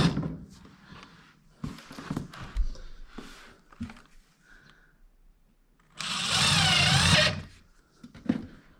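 A power drill drives screws while a baseboard vent diffuser is fixed in place, one sustained whirring burst of about a second amid scattered handling knocks and quieter rustling, close by.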